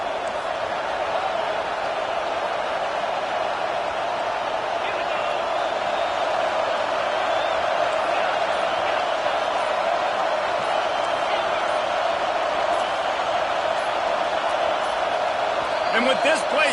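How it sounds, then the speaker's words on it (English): A college football stadium crowd in the NCAA 25 video game, with Ohio State facing Texas A&M, roars in a sustained, loud, unbroken din that rumbles on without pause. "Listen to this crowd just shaking the girders of this"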